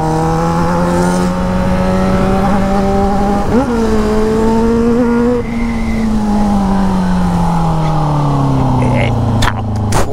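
Yamaha XJ6 motorcycle with a stainless steel 304 exhaust holds a loud, steady engine note that rises with sharp throttle blips, then sustains and slowly drops in pitch, with excited voices nearby.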